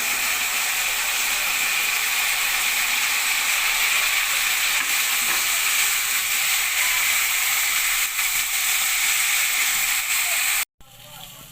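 Chicken pieces fry with curry leaves and a spice mix for chicken 65, making a continuous, loud, hissing sizzle close by that ends in a sudden cut near the finish.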